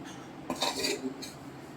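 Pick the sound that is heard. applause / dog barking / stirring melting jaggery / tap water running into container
stirring melting jaggery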